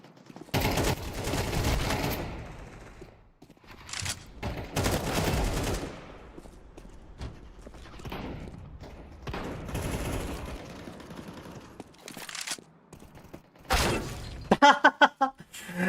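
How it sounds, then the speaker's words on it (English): Bursts of video game gunfire, rapid fusillades and single shots with shattering impacts, arriving in loud clusters separated by short quiet gaps across the stretch. "He was trying to shoot the other guy."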